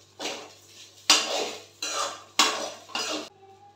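Powdered spice being mixed into a dish, with five distinct bursts of a metal spoon scraping and clinking against a pot or bowl, close and loud, separated by short pauses.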